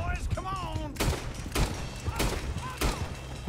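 Gunfire from a shootout in Red Dead Redemption 2, with several sharp, loud shots cracking out at irregular intervals over a busy game background. A short rising tone sits under the first shot.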